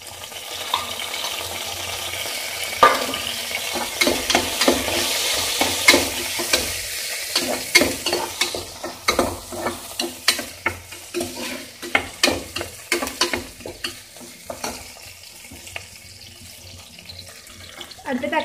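Ginger and garlic sizzle in a hot pan while being stirred, a continuous fry hiss broken by many sharp scraping spatula strokes in an irregular rhythm, close and fairly loud.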